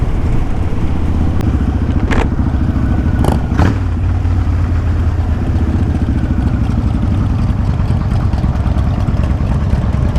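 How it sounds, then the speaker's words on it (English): A motorcycle engine chugging along in fifth gear, a loud low steady rumble under heavy wind noise, with a few brief clicks early on. "I love how I can just chug around in 5th gear on this bike like it's nothing"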